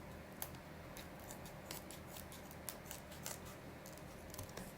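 Scissors cutting open a package of nuts, giving faint, irregular snips and crinkly clicks over a steady low background hiss.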